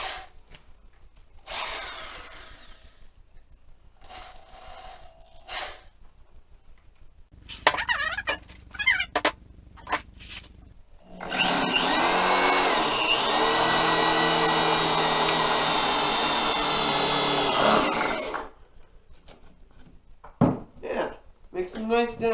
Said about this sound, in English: So what I've done is I've drilled a 1/4 inch hole